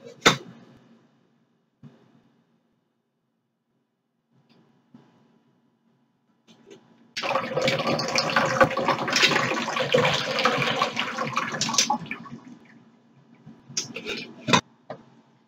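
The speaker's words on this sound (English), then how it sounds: "you're going to hold the pan with your unaffected hand and pour some of the water off" Water is poured off a pan held by one hand with the lid held in the other, a loud continuous splashing pour lasting about five seconds after a quiet start, tapering off with a few clinks at the end.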